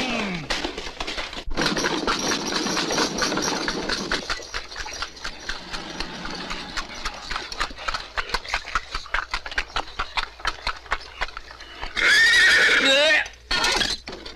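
A horse neighs loudly in a Hindi comedy film scene, the whinny coming as a sharp high burst near the end after stretches of talk and music-like background.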